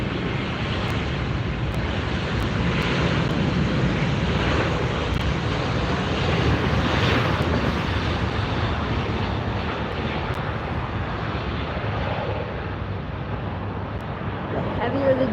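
A heavy jet airliner rolls down the runway for takeoff at LAX, its engines giving a loud, sustained roar close by, with wind buffeting the microphone.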